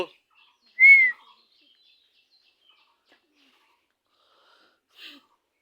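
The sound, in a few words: pet parrot (Mithu) calling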